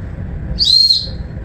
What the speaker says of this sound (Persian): یه دونه سوت داریم